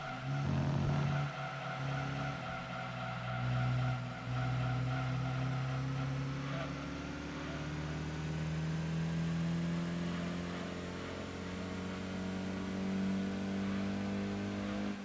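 A car engine in Gran Turismo 2, a stock exhaust with a plain, dull tone, drones steadily throughout and shifts in pitch as it revs and accelerates.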